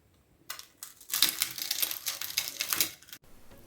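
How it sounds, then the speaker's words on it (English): Crispy fried papad rolls stuffed with filling being bitten, giving a run of loud, dry crackling crunches for about three seconds, close up with no talking. "Now let's see how crispy they turned out."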